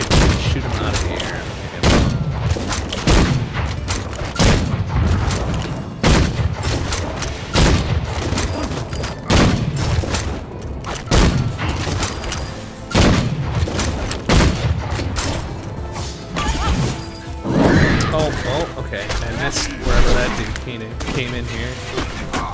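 Repeated booming gunshots and bursts of fire from the video game Full Metal Furies, loud and rhythmic, with game effects and occasional voices mixed in.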